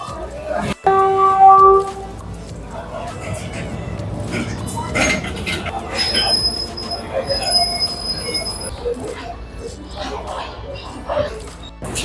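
An electric locomotive-hauled train at a railway station in Sri Lanka, with loud wheel squeal and rumbling rail noise close by, metallic screeches rising and falling over continuous clatter while people talk nearby.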